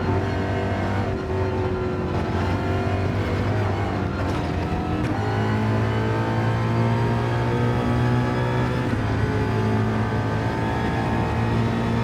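A Coyote 5-liter V8 in Gran Turismo 7 drones steadily and loudly, its engine note holding a constant rumbling pitch that rises gradually through the run with no talk over it.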